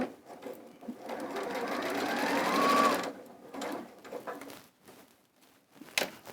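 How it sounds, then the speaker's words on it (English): A sewing machine stitches a French seam with fabric placed wrong side to wrong side, a rising whir in one continuous run followed by softer handling noises and faint sounds nearby. "you're actually sewing out on the outside of the fabric"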